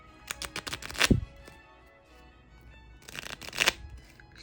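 A 200-year-old antique Lenormand card deck is riffle shuffled twice, each pass a quick flutter of snapping cards ending in a soft bridge, heard up close with a quiet pause between.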